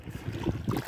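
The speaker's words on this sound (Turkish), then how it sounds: "Dalgalar gördüğünüz gibi ağır ağır geliyor." Calm sea waves roll slowly onto a narrow sandy beach on a still, windless day, giving a brief, soft wash of water at close range.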